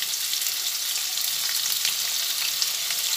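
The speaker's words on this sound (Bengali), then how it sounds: "আলুটা এরপরে অল্প করে ভেজে নিচ্ছি।" Potato pieces fry with turmeric in a pan, giving a loud, dense, continuous sizzle with no voices over it.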